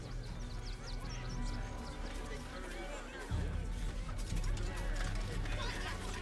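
Geese in Baldur's Gate 3 honk and quack in an ongoing jumble beneath a crowd's chatter, the calls continuing throughout and growing louder and denser partway through.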